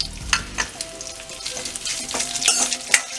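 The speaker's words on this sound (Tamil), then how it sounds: "இதே எண்ணெயிலே நல்லா ஃப்ரை பண்ணிடுங்க." Karpuravalli leaves fry in oil with chilli and a small piece of ginger, giving a steady crackling sizzle with occasional sharper pops and spatula scrapes, close and fairly loud, with no talking.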